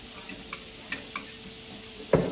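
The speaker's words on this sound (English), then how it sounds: "While the ham and onions are cooking" Ham and onions cooking in a pan, a soft steady sizzle with sparse light clinks and taps of utensils, then a brief louder clatter near the end, no talk.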